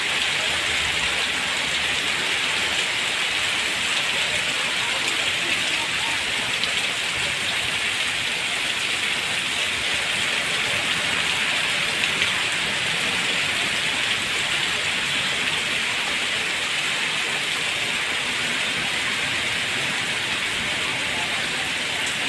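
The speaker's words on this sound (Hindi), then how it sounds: "बहुत ज़्यादा बारिश है" Heavy stormy rain pouring down in a village, a loud, unbroken roar of dense rainfall lasting the whole stretch, close and steady with no clear voices.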